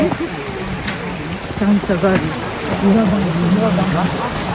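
Steady rushing water fills the background, a constant wash of flowing water near a waterfall at Akame 48 Waterfalls in Japan, with people talking over it throughout.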